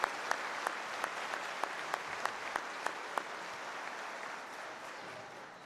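Convocation ceremony audience applauding a band, a broad, even roar of many hands clapping in a large hall, with a few sharp nearby claps early on before it settles into a steady, slowly fading wash.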